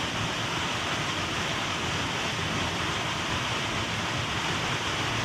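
A Sardinian waterfall pours in a constant, dense broadband rush of falling water, steady and fairly close, with no voices.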